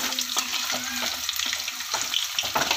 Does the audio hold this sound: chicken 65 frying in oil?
yes